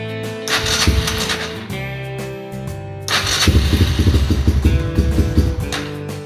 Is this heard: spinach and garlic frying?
no